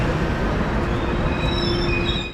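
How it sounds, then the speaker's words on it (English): A EuroCity Metropolitan passenger train of the Czech National Railways rumbles past nearby with a steady rolling roar, and a thin, high wheel squeal rises over it before fading slightly. "And there is my next ride, the EuroCity Metropolitan train to Prague"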